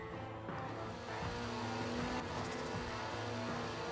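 Ford RS200 with a heavily turbocharged inline-four and all-wheel drive, racing in Forza Motorsport 7, its engine droning steadily and rising through the revs in a continuous loud tone.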